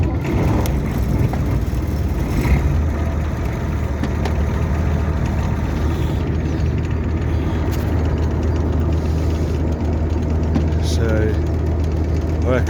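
A Gleaner Super A combine harvester engine runs steadily at close range, a continuous low rumbling drone with a faint higher whine, while someone talks over it at intervals.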